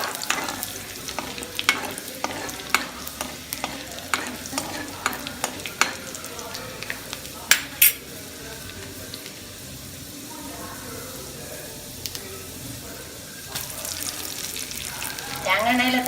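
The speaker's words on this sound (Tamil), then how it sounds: "தேங்காய் எண்ணெயில் தாளிச்சா அப்படி ஒரு மனம்." Urad dal is tempered in hot coconut oil for a Nagercoil-style jackfruit seed curry. It crackles and sizzles close up, with sharp pops and stirring scrapes at the start before settling into a quieter, steady fry.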